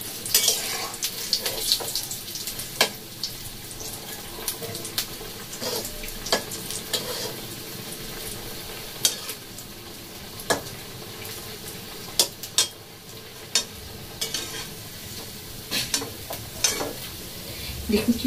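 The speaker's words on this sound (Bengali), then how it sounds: "দেখুন কি সুন্দর মুচমুচে ভাজা হচ্ছে" Fish cutlets coated in biscuit crumbs fry crisply in oil, a steady close sizzle broken by sharp pops and occasional clinks of stirring, running continuously without talk.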